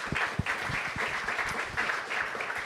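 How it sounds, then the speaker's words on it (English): Modest round of applause from the audience at a mayoral candidates' forum, a steady patter of clapping at moderate distance, fairly quiet and lasting a few seconds without speech. "can we give them both a round of applause?"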